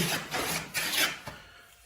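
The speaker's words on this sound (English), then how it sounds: "this is still taking a deep cut even for the jack" A jack plane takes a deep cut across a wooden board being flattened by hand, giving three or four close, raspy shaving strokes in a steady rhythm, with no talk.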